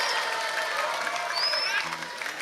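Applause from a crowd at an Islamic religious lecture gathering in Jember, a dense wash of clapping with some voices mixed in.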